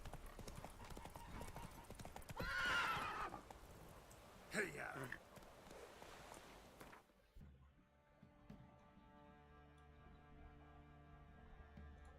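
Horse hooves clip-clop and a horse whinnies briefly in The Witcher 3 video game, the steady hoofbeats under game music, with a louder burst partway through before the scene shifts to quieter tonal music.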